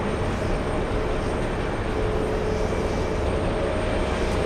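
An Airbus A321neo airliner flying in at JFK airport makes a steady, loud jet engine roar with a constant broadband rumble and a faint whine, holding level throughout.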